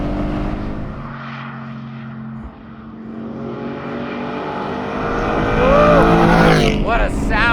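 A naturally aspirated 4.5-litre DeMan-built Porsche 718 Spyder engine roars past a guardrail, its steady drone swelling into a loud, rising high-rev wail with sweeping harmonics near the end.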